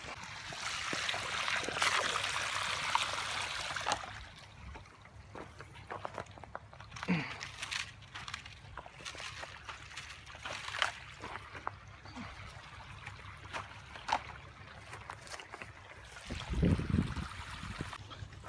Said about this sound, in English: flush that line to try to flush out any debris or hard water buildup